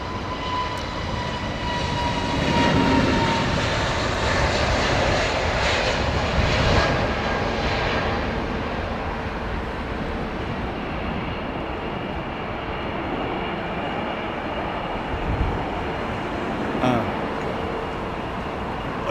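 SAS airliner in the old livery at London Heathrow Airport, its jet engines roaring steadily and fairly loud throughout, swelling slightly early on and holding a constant broad rumble.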